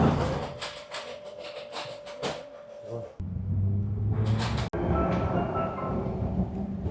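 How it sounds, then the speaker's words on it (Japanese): A Budapest train interior rumbles and rattles, the tone shifting as the carriage moves, with a sudden thump and a steady droning hum of motion. "芸術劇場から見える駅から電車に乗ります。"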